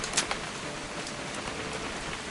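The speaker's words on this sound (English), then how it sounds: "It's gonna rain the whole weekend," Steady rain in the video game What Remains of Edith Finch, a dense even patter of drops on a surface with a couple of sharper splashes near the start, continuous and alone.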